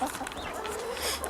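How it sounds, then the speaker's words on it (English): Hybrid hens in an allotment coop cluck softly and irregularly at close range, a busy scattering of short calls from several birds with no talk over them. "let's introduce you to the chickens that are escape artists"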